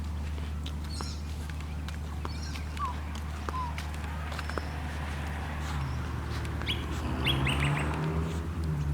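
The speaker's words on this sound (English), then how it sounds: "These magpies grew up at the sanctuary." Magpies at a bird sanctuary in Moorooka give short warbling and chirping calls over a low steady background hum, with brief clicks and a louder burst of bird calls toward the end.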